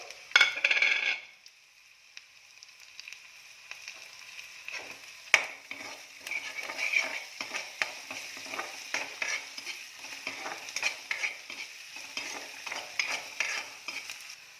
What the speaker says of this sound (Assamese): এতিয়া ইয়াতে কুটি লোৱা আদা নহৰু আৰু কেঁচা জলকীয়াখিনি মই দি দিছোঁ